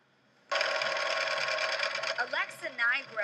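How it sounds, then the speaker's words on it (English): A sewing machine stitches a cotton scarf in an apartment, starting abruptly and running steadily close by, then slowing into a few short uneven bursts at the end. "sews each scarf in this Gowanus apartment."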